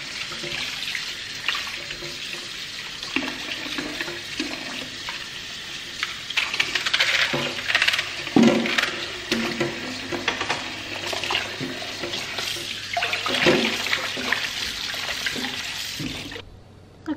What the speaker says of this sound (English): the first thing we wanna do is wash the celery.